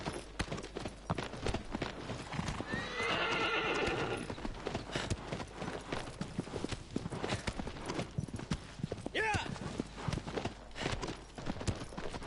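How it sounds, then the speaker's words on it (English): A chestnut horse in Shadow of the Colossus gallops with steady, dense hoofbeats. A loud neigh comes through midway and another whinny follows later, over a busy, noisy game soundscape. "It's just a cute chestnut horse"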